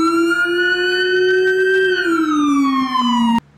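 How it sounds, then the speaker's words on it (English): Whale-style car siren from Roblox Studio, a loud, clear, tonal wail that holds steady, then slides slowly downward before cutting off abruptly. "that is the siren we have in right now"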